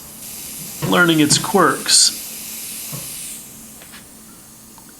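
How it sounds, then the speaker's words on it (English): A small airbrush sprays in short hissing bursts, loud and close, two or three quick puffs followed by a fainter trailing hiss, then a couple of soft brief spurts; a voice speaks briefly afterward. "this little airbrush is going to work really good for this kind of stuff"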